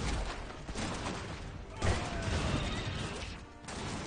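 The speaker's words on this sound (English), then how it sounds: "Oh, it breaks buildings!" Buildings being smashed in the alternate-1920s real-time strategy game Iron Harvest, a dense, loud run of crashing debris and crumbling impacts with gunfire-like bursts, continuing nearly unbroken with brief dips.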